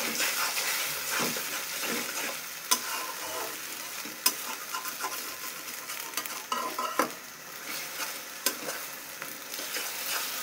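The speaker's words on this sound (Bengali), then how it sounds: "ঝুরি ভাজা মতো ভেজে নেব" An egg fried in about two tablespoons of oil and stirred into a crumbly scramble, a steady sizzle broken by sharp clicks of a spatula scraping the pan, close up with no talk.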